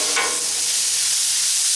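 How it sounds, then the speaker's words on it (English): Frozen potatoes sauté in butter and oil, giving a brief, loud, steady sizzle with a quick stirring scrape near the start. "So we're going to just saute them here in that butter and oil."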